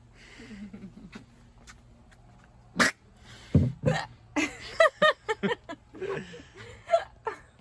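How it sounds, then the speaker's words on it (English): A woman caught in a hiccuping fit gives a string of sharp, short hiccups, irregular at first then coming in a quick cluster, close to the microphone, mixed with some laughter and breathy sounds. "she gets into these hiccuping fits"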